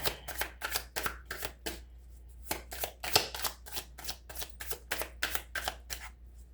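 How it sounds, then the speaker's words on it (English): Rapid riffle shuffles of a deck of playing cards, crisp flurries of snapping cards in several bursts with brief pauses between, close and fairly loud. "I'm going to shuffle one more time"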